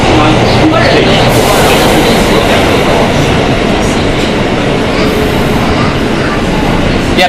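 New York subway Q train, a Kawasaki R160B car, running underground with a loud continuous rumble, rattling wheel clatter and faint squeals, heard from inside the car throughout.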